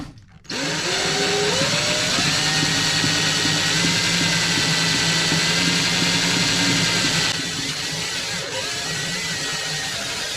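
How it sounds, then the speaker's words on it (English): A power drill whirs steadily at high speed as line winds onto a spool, its pitch climbing slightly, then easing off near the end. "The best way to do this is to put it right in your drill."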